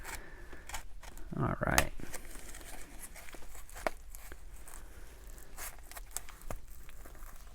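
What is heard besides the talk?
cutting open a coin package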